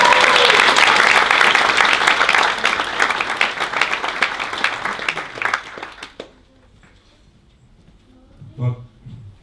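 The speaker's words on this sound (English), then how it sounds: "I think a round of applause for Sophie and Charlie." A crowd applauds loudly at wedding speeches in a dense, sustained burst that tapers off after about six seconds, leaving near quiet and then a voice.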